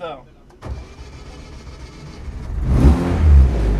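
Rally car engine cranking and catching, then rumbling louder and revving as it settles into a deep idle, close by, with someone talking briefly at the start.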